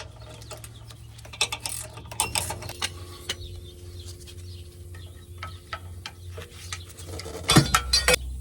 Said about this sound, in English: this will be a 10mm socket to remove these bolts